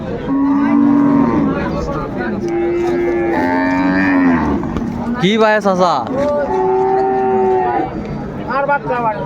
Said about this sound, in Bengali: বেশ সুন্দর গাভি বাছুর